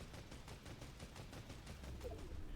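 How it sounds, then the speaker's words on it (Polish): Rapid bursts of gunfire in Fortnite crackle in a quick, even rhythm, fairly faint and steady, like automatic weapons. "Strzały ostrzegawcze poszły."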